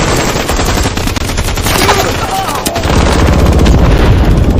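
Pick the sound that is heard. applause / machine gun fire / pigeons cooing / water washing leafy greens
machine gun fire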